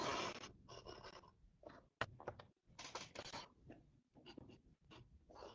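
Craft knife cutting cardstock paper along a ruler for a rectangular box, heard as short bursts of scratchy scraping strokes separated by pauses, fairly close, with a few sharp taps.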